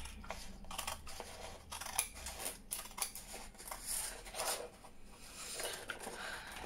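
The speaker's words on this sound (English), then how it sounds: "So I'll just cut around this." Scissors snip around a piece of aqua-themed paper ephemera for a junk journal, a run of soft, close crisp cuts and paper rustles with no talking.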